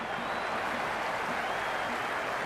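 A packed IPL cricket stadium crowd roars and applauds in a dense, continuous wash of cheering, loud and unbroken throughout.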